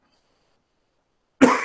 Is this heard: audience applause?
no